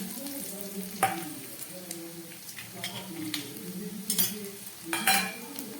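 Peanut pieces, curry leaves, panch phoron and grated ginger fry in a pan with a steady, close sizzle and occasional sharp scrapes of a spoon stirring. A voice talks over the cooking.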